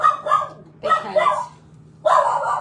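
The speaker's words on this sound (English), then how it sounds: "that is my dog in the background" A pet dog barks in short repeated bursts in the background of a home kitchen while a person talks nearby.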